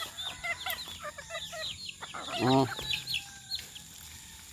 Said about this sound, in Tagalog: pabigyan ko mga patukaan yung mga manok